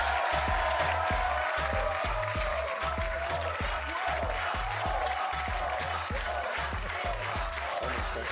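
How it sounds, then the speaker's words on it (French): Studio audience applauding on a French television game show, a steady dense wash of clapping with a faint rhythmic beat underneath, sustained and even, heard from a distance without talking. "Applaudissements pour Omar Sy."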